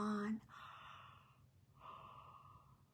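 A drawn-out human yawn, performed in a children's bedtime song, opens with a short voiced groan and fades into long breathy exhalations, close and fairly quiet, with no music or other voices.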